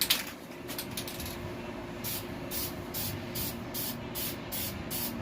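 An aerosol can of black ceramic coating sprays onto a car exhaust system in a series of short hissing bursts, a quick rhythmic pattern after one longer initial spray, close and fairly quiet.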